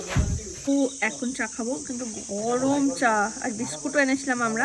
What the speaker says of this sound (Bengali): পুরো জঙ্গলের মধ্যে ঝিঝি পোকার আওয়াজ ছিল